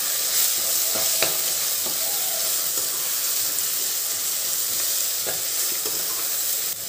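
Capsicum fried and mixed in a hot pan with coriander powder, turmeric and salt, a loud, dense, steady sizzle and hiss with occasional sharp scrapes and taps of the ladle, close up and without speech.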